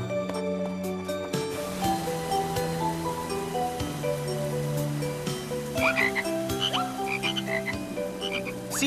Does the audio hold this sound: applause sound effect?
no